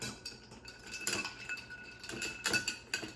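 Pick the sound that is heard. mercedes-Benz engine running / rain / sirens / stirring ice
stirring ice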